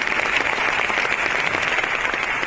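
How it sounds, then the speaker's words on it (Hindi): A seated audience in a Patna hall claps loudly and continuously, a close wall of applause that holds steady throughout. "मैं चाहता हूं मेरे पिताजी के लिए फिर से एक बार जोरदार ताली"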